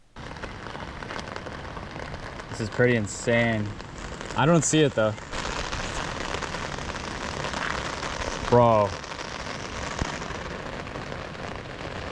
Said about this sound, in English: We're getting caught in some heavy fucking rain.